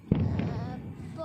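Firecracker at a Karthika Pournami celebration goes off in a single sharp pop, followed by a brief crackling, fizzing tail, with people talking nearby.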